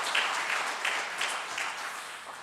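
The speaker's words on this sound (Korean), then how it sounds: "여러분 박수 한번 해주시기를 바랍니다" A church congregation at a Sunday worship service applauds with a continuous, even wash of clapping from many people, moderately soft and slightly distant throughout.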